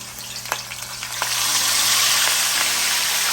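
A clove of garlic and Scotch bonnet pepper fry in hot oil, with a dense sizzle that swells louder after the first second and a few sharp clicks of stirring near the mic.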